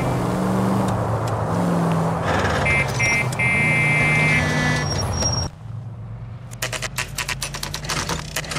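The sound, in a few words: car pulling out of a driveway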